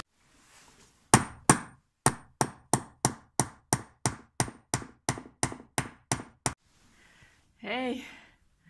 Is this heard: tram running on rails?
no